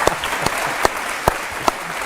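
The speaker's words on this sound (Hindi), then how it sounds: "ताली बजाइए भाई" A studio audience at a televised Hindi courtroom-style interview show claps behind a steady hum, with about five sharper, louder claps standing out at roughly even intervals.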